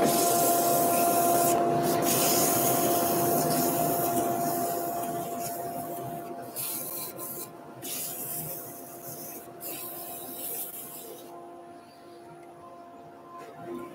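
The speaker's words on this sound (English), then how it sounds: "Got to quickly turn the extractor on, do a little bit of sanding on that." Sanding a freshly turned wooden toy wheel on a lathe with 240 grit while a dust extractor runs, giving a steady close rubbing hiss over a constant motor drone that gradually softens and thins toward the end.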